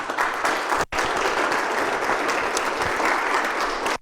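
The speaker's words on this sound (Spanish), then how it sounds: "Denle un fuerte aplauso al Señor." A church congregation bursts into loud, dense applause, briefly broken by a split-second gap before the steady clapping resumes and carries on strongly.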